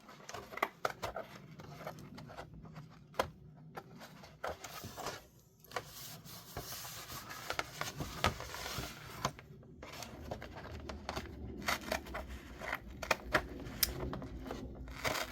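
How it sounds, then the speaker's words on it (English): A paper trimmer slicing through both layers of a record sleeve for a junk journal cover, a steady run of close scraping and crunching cuts with small ticks and rustles, no voices. "to use my paper trimmer to do it all the way through both layers"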